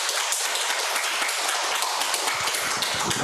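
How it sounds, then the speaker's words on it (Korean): Audience applause at a church health seminar in Jeju, welcoming a pastor and public health doctor introduced as the lecturer: dense, steady clapping from a room of people, sustained throughout with no talking over it. "박수 한번 쳐주시기 바랍니다"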